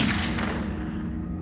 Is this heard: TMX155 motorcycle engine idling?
no